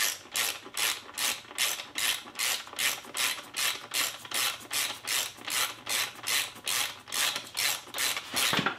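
A ratchet clicks rapidly in repeated strokes while tightening a bolt on the bottom end of a YZ250 two-stroke engine during a rebuild, loud and close, in a steady back-and-forth rhythm with no talking.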